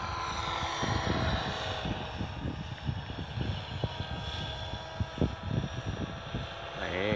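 A scale model RC helicopter flies nearby, its rotor and engine giving a steady whirring drone with rhythmic pulsing thumps throughout, loud and continuous with some voices faintly underneath.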